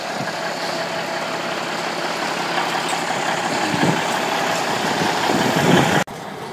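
A 1995 International truck with a Cummins N14 diesel engine runs steadily and loudly up close, a constant broadband drone with low rumble that swells slightly before cutting off sharply near the end.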